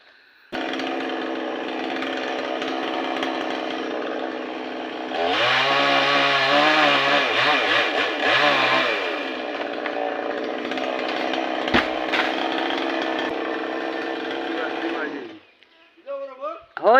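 A machine cutting down a coconut palm tree runs with a continuous loud buzzing engine drone that rises in pitch and intensity for a few seconds, then steadies and cuts off near the end.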